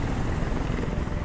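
A helicopter in the Detroit: Become Human video game drones with a loud, continuous rotor chop and dense low rumble that fills the whole short stretch without a break.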